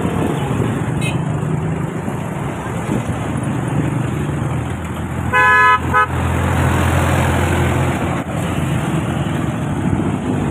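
Busy street traffic in Pakistan: a continuous roar of engines and road noise with a sharp car horn near the middle and a faint toot earlier, fairly close and loud, without any speech.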